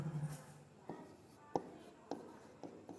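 Chalk or marker taps and strokes on a board during a maths lesson, a few faint, sharp knocks spaced about half a second apart in a quiet room.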